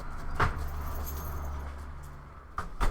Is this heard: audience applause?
no